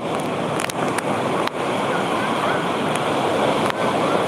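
Steady roar of surf on Calang beach, loud and continuous, with wind buffeting the microphone now and then.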